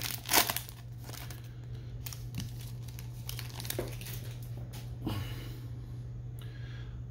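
Crinkly foil wrappers of 2020 Bowman Chrome baseball card packs are torn open and handled close by, with a sharp crackle at the start and softer rustles after it, over a steady electrical hum.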